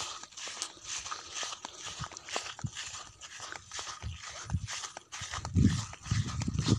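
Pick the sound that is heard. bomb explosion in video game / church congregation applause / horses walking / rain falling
horses walking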